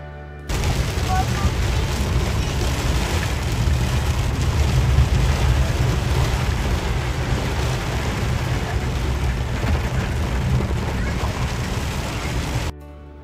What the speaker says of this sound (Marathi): हे बघा, खूप जोराचा पाऊस येत होता.